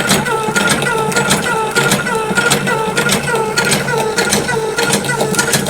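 A batasa (sugar drop) making machine runs close by, a dense steady mechanical clatter with fast regular ticking and rattling beats throughout, loud and unbroken, with no voices over it.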